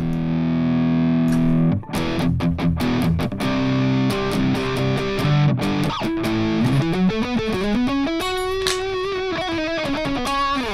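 Heavily distorted electric guitar through a Mesa amp preset plays a driving run of chugged notes and sustained chords, loud and continuous, ending in a ringing, bending note.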